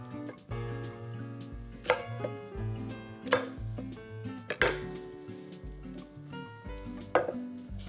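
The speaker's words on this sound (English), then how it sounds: "Let's cut them in pieces like that." A knife chops asparagus and scallions into pieces on a board, a series of crisp, close thuds in an uneven rhythm over quiet background music, with no speech.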